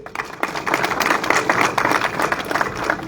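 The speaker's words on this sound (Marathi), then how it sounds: "टाळ्या वाजवा त्यांच्यासाठी." Audience at a public speech in Baramati clapping, a crowd's steady, dense applause rising quickly and holding, loud and fairly close, with little talk over it.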